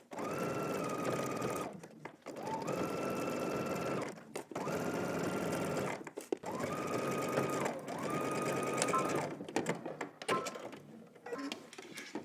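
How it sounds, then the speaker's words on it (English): A sewing machine stitches a 5/8-inch seam on a tank top in several steady bursts of rapid stitching, stopping briefly between each run, fairly close and alone. "we're gonna head to the sewing machine and we're gonna stitch using 5/8 of an inch seam allowance"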